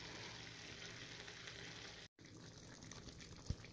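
Steak strips seasoned with black pepper and garlic sizzle in butter in a pan over low heat, a faint, continuous frying hiss with a brief break and one small pop near the end.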